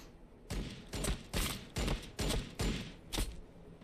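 Gunfire rips across a Warhammer 40,000: Battlesector battlefield in seven evenly spaced heavy volleys, each a loud booming burst of about half a second with short gaps between, and no talk over it.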